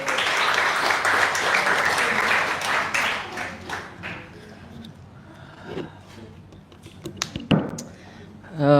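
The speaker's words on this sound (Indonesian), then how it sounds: "Tepuk tangan buat Kang Abu dan juga buat semua teman-tema" Audience applause fills the first few seconds, dense and steady, then thins out into scattered claps, murmurs and voices at a talk event.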